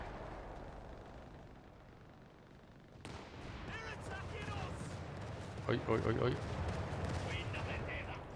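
Artillery bombardment in the World War II strategy game Company of Heroes 3, several booming impacts and gunfire bursts starting abruptly and continuing amid soldiers' shouted voices and battle noise.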